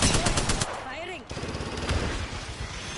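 Rapid automatic gunfire from Rampart in Apex Legends, a loud near burst at the start, then a brief voice and continued fire through the rest of the clip.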